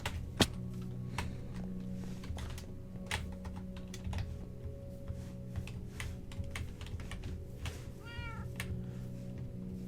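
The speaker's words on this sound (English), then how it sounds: "I can hear the cat" A cat meows faintly in short rising calls, heard within Minecraft survival gameplay, alongside steady computer keyboard typing and clicks under a low background hum.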